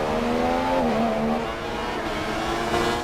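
The engine of Fernando Alonso's number 14 McLaren Formula 1 car in the F1 2016 racing game, heard onboard as a loud, continuous high-revving whine that dips briefly on a gear change and then climbs again.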